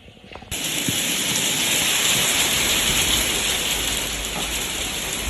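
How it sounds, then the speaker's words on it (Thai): Rain falling in Norway: after a short quieter start, a steady loud wash of rain switches on suddenly and holds constant and close for the rest of the clip, with no voices. "แล้วได้ยินเสียงฝนไหม ก็คือฝนตกด้วยนะคะ"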